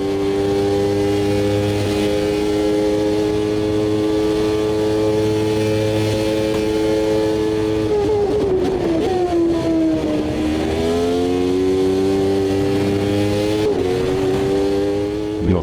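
A 1993 Formula 1 car engine in the racing game Automobilista 2 screams at high revs, holding a steady pitch, then dropping and climbing again through downshifts and upshifts, loud and close throughout.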